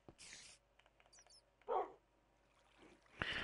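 A dog in the video game Minecraft gives a few short, faint barks and yips amid quiet game noise, with no clear talking.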